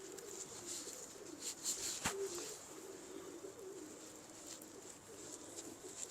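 Pigeons coo softly and repeatedly at a pigeon fancier's loft, a low steady murmur under faint background hiss, with one sharp click partway through.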